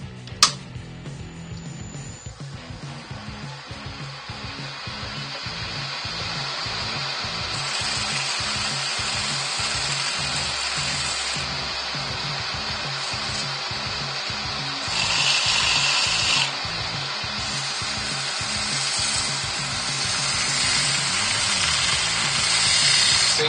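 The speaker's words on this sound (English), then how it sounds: "Sand that back to 400 just to lose some of the darker points." A scorched ash bowl spinning on a wood lathe is sanded with 400-grit paper, giving a steady motor hum with a soft, rhythmic scratchy whir throughout, close and even, with no talking.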